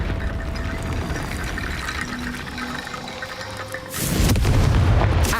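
The Confringo fire spell from Hogwarts Legacy goes off, first as a rushing, watery whoosh and then as a loud, broad blast that bursts in near the end and keeps booming to the close.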